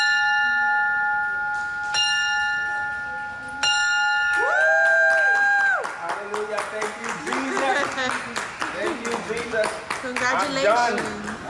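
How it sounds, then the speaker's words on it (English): A bell rings out clearly several times as a patient marks the end of cancer treatment, its sustained tones followed by a burst of applause and cheering, with people talking. "When you hear this bell, it's a big deal."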